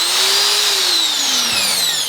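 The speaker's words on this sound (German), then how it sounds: "die Bohrmaschine" Electric power drill running from a portable Anker Solix C1000 power station: a steady, loud motor whine that dips slightly in pitch as it runs for about two seconds, with no talking.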